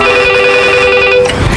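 A telephone bell rings loudly and steadily for over a second with a sustained electronic ring tone, then cuts off, with no talking.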